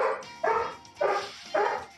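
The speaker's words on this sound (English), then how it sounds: "Sorry about all the barking here." A dog in the Mario & Sonic at the Rio 2016 Olympic Games 3DS game barks four times in a steady rhythm, each bark close and clear with short gaps between and no talking.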